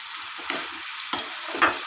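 Onions fry in a pan with a steady sizzle, broken by three distinct scraping stirs of a utensil against the pan.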